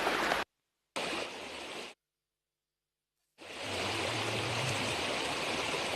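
Floodwater pouring over a submerged bridge during heavy monsoon rain, a loud broadband rushing roar heard in bursts broken by silent gaps, then sustained steadily.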